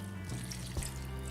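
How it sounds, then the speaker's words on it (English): Water poured gently from a container over pebbles in a seed-starting tray, a soft steady trickle and splash with a brief heavier gush partway through. "as I pour this in, I just put it right over those pebbles"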